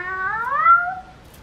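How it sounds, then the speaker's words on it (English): A cat gives a single drawn-out meow, rising then falling in pitch, close and clear for about a second against a quiet background. "A kitty cat is what I found in my garden."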